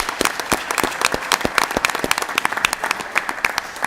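An audience at a school board of education meeting applauds, a lively burst of many individual sharp claps close by, continuous for a few seconds without speech.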